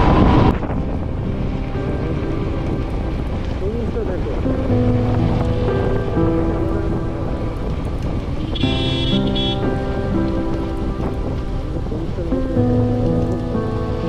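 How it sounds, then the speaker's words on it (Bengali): Water flows across a road on a ride through Arunachal Pradesh, making a steady loud rushing wash. Humming engine tones run through it from start to finish. "জল বয়ে যাচ্ছে খুব সাবধানে।"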